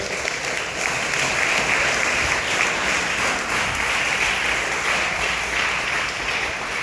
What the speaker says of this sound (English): big round of applause to our parents as well